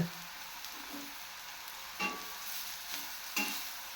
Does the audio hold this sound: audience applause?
no